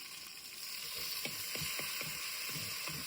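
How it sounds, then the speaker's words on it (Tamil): Onion and curry leaves sizzle in hot oil during tempering for a dried-fish kuzhambu in a country kitchen, a steady bright hiss with soft stirring taps and scrapes near the pan. "வெங்காயம் போட்டு தாளிக்கிறோம்."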